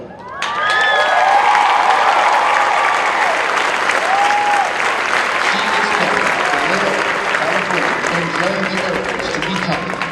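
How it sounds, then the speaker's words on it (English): A crowd in the stands claps and cheers steadily throughout an Air Force training squadron graduation ceremony, loud, sustained applause with a few whistles and shouts rising above it. "In the stands cheering are her mother and father, Annalyn and Anario Kapanak"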